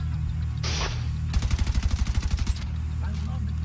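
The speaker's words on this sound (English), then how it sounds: "Not gonna lie, I was shooting at a plant." Automatic gunfire in The Division 2, a rapid burst of about fifteen evenly spaced loud shots lasting roughly a second, amid game ambience and a brief earlier noise.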